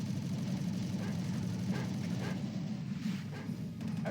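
A dog in a video game barks and whimpers while attacking the player, yelps popping up over a constant engine-like drone for about four seconds with no talking.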